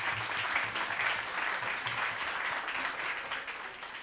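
Audience applause at an education conference, a steady, moderately loud patter of many hands clapping that fades slightly toward the end.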